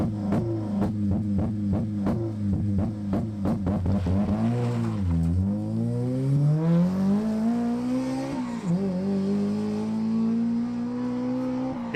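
A Honda K20-engined car in a drive-by, its exhaust popping in rapid bursts before it revs up and pulls away, the engine note climbing and holding loud.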